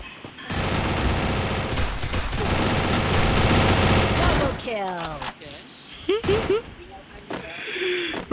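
Counter-Strike gunfire in a ranked match, a dense sustained burst of automatic shots for several seconds, then scattered single shots and game sound effects, loud and close, while a voice talks over it.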